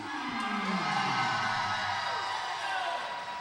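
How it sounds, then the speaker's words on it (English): Wrestling match crowd cheering and shouting at a 2009 bout between Shanghai Pierce and Elijah O'Malley, a dense, steady roar of voices with whoops rising over it. "And there, a crowd reaction for Elijah O'Malley"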